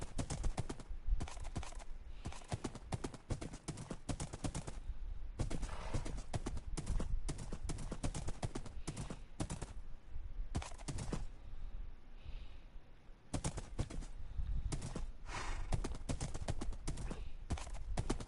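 Horse hooves clip-clopping in Minecraft Bedrock Edition on PS4, with occasional neighs and whinnies, loud and close, in repeated bursts broken by brief pauses.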